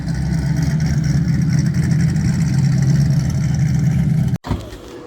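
A Ford Mustang engine rumbles nearby at a steady, deep drone as the car arrives at a hot rod drag event, ending with a sudden thump and a short drop.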